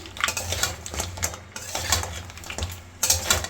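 A spoon scrapes and clinks repeatedly as sea crab curry is stirred in a pan over a high gas flame, with steady sizzling beneath the rhythmic strokes.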